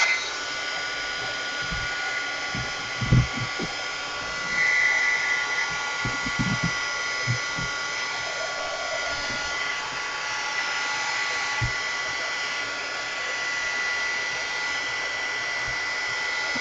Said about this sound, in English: one thing I love about using a heat gun is that you don't give a chance for the color to spread out on itself